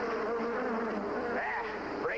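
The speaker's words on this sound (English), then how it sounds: "two of you, majority-wise, wanted a buzzing bee" A cartoonish bee buzzes steadily and loudly for about two seconds, its drone wavering and sweeping up and down in pitch, heard up close and alone.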